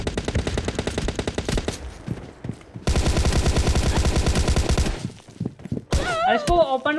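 Rapid gunfire bursts from a video game, loud and rhythmic, with a second sustained volley midway and a player shouting excitedly in Hindi over the shots near the end.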